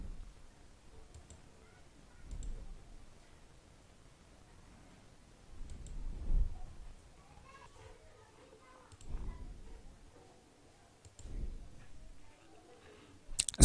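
Computer mouse clicks sound during work in an app: faint, sparse clicks scattered over a quiet room tone, a few seconds apart, with soft low bumps in between.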